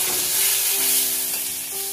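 Vegetables fry lightly in oil in a kadai, making a close, steady sizzle with faint stirring underneath and no voices.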